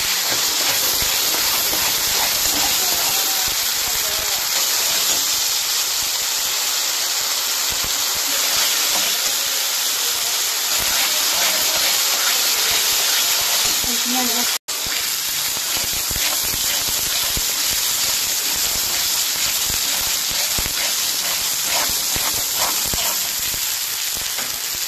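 Onion paste sizzling and frying steadily in a hot pan for a fish curry, a continuous loud hiss and spatter that runs throughout with one brief break midway.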